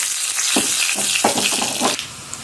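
Loud crackling sizzle of tempering of garlic and chillies in hot oil, with sharp pops and spits over a steady hiss, quieting toward the end.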